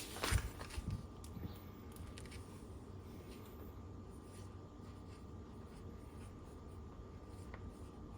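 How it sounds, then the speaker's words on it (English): Pen writing a label on a FoodSaver freezer bag holding fresh sweet corn, a faint steady scratching after a brief handling bump, quiet and close with no talk. "I always like to write on it what it is."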